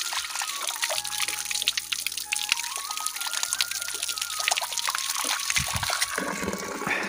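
Cold water trickling from a village water source, a continuous close splashing and dribbling flow with a faint tone running beneath it, no voices heard.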